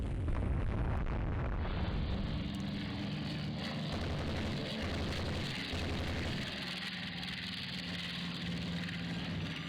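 Biplane bombing run on an enemy ship in the naval strategy game Rule The Waves 2, a dense, loud roar of propeller engine noise mixed with booming explosion rumble, continuous throughout with no talking.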